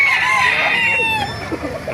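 Fighting cocks at a market in Calumpit, crowing and clucking loudly and close, several birds overlapping in a dense chorus.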